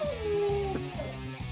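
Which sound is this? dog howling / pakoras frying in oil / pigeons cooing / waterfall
dog howling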